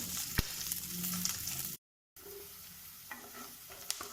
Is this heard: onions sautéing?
yes